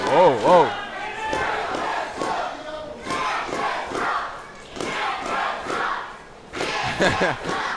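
A wrestling crowd at a Friday night show cheers and chants loudly, with rising yells, whoops and rhythmic shouting in a sustained roar, plus occasional thuds and a commentator speaking over it.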